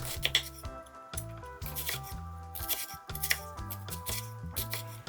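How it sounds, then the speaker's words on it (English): A knife makes close-together cuts through an onion half on a cutting board for lumpia shanghai filling, producing quick, crisp, evenly spaced taps. The taps sound close and continue over background music. "Mince the onion by making some close together horizontal cuts and then some close together vertical cuts"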